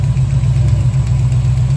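A 1970 Chevelle with a freshly swapped big-block engine idles steadily and close by, its deep, even rumble carrying a faint rhythmic tap from a loose pushrod.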